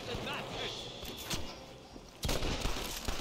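Gunshots in a Red Dead Redemption shootout, sharp single reports cracking over steady background battle noise, with a louder cluster of shots near the end while a person talks over it.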